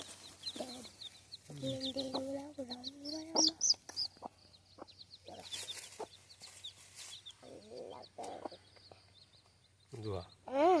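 Chickens cluck and squawk in short bursts at varying distances, with a rooster-like call partway through and faint voices in the background.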